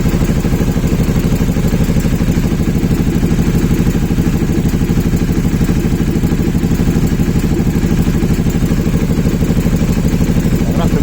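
Aprilia Shiver 750 motorcycle engine running steadily while warming up, a continuous close, loud mechanical idle with even rhythmic pulsing and clatter throughout, no talking.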